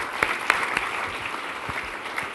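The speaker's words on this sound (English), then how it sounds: "let's give him a round of applause for that" Audience applause at a Churchill Club awards event honoring Airbnb in San Francisco, a broad steady wash of clapping with a few sharper claps standing out, sustained and fairly even throughout.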